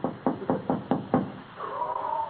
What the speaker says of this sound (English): Shall we knock?